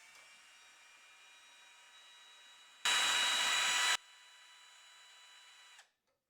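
A degassing tool stirs wine in a short, loud whirring burst of about a second, over a faint steady background hum that cuts off at the end.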